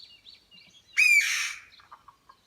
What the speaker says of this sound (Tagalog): Narinig nyo yung ingay ng ibon?